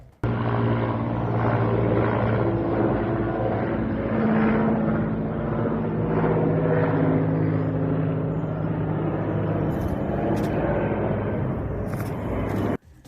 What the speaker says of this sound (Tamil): Mi-17 ரக ஹெலிகாப்டர் நிலை தடுமாறி சுமையை நழுவவிட்டது